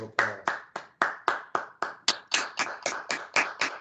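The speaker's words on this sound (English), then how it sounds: "So now I think it's time that we all give them a round of applause." A single person claps for graduating Williams Honors College scholars at an online 2021 ceremony, about fifteen crisp, evenly spaced hand claps heard close and alone with no voices.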